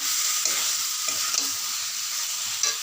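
Potatoes coated in spices sizzle gently in a frying pan while being stirred for a Bengali coriander-aubergine dish, soft scraping strokes recurring every second or so over a continuous hiss.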